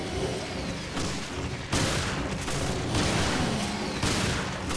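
Dense, continuous gunfire and explosive booms from the video game Resident Evil: Revelations, loud and sustained with repeated heavy bursts and no gaps.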